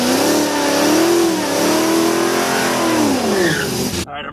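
A Corvette being built for high fuel economy races a C5 Corvette. Its engine revs hard and close, rising and falling in pitch through the gears, then drops away abruptly at the end.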